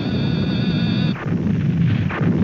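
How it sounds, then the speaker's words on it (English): An explosion in the Japanese film Mighty Jack, heard as a loud, rumbling blast with a low, heavy boom and crackling debris that continues after a high-pitched tone cuts off. "Explosion!"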